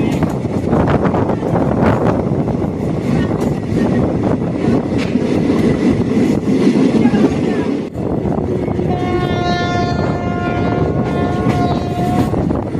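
A train running down the line from the Bhor Ghat hills toward Karjat station, a steady loud rumble of wheels and carriages with a high whine or squeal of wheels emerging in the later part.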